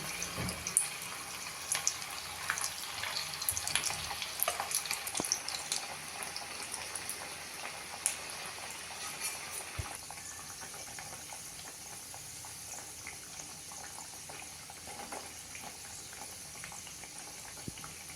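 Crisp bites dropped into hot oil over a medium gas flame give off a steady, close bubbling sizzle with small crackles, fading slightly over time, with no talking.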